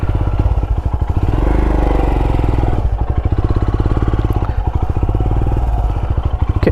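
Royal Enfield Himalayan motorcycle engine runs close and loud, a steady thumping single-cylinder beat that dips briefly near the middle and then carries on, with no voices.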